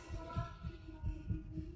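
Heartbeat effect in the video game Little Nightmares during a chase scene: low, soft thumps pulsing steadily about every half second under a sustained droning hum, with no talk.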